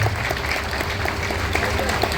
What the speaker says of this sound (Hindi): जोरदार ताली से हम लोग अपने इसी साहब का स्वागत करें.